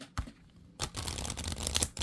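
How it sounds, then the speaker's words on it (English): A deck of tarot cards being shuffled, with a soft riffle, a pause, then a run of dense papery flutters and taps up close, no talking. "don't know why I'm shuffling a deck."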